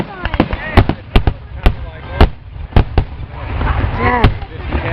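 Loud July fireworks finale: rapid sharp bangs and crackling bursts in quick succession, some crackling like machine-gun fire, booming over continuous rumbling, with excited spectator voices.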